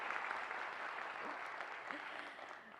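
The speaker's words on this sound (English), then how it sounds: "clap for yourselves" Graduates at a 2024 commencement ceremony applaud themselves, a sustained, even roar of many hands clapping in a large hall, heard from some distance throughout.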